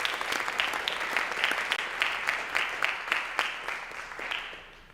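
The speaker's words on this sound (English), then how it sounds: "Let's give all the award recipients another round of applause for taking their lessons seriously." An auditorium audience at an eighth grade academic awards ceremony gives recipients a round of applause, a dense, even patter of many hands that holds steady and then fades out toward the end.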